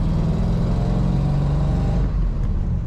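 A 1950 Mercury six-passenger coupe street rod with a three-on-the-tree manual gearbox gives a steady, close, low engine rumble that swells as the throttle opens, then eases back slightly near the end.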